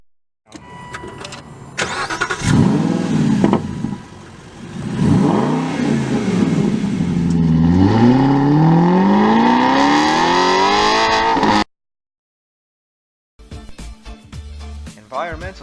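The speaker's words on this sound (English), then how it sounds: "Motivated sounds can be a car engine on gravel or an engine turning on" A car engine cranks and starts, then revs up and down several times in loud, rising sweeps before cutting off; faint clatter follows after a pause.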